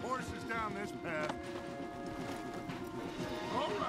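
Horse hooves clop along amid Red Dead Redemption 2 game sounds, with a whinny and other effects mixed in, while someone talks over them.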